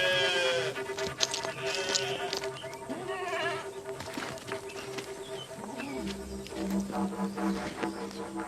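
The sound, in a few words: flock of sheep bleating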